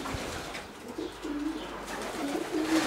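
Breeding pigeons cooing in a loft, soft low coos repeating a few times over a murky background hiss, faint and near, with no talk.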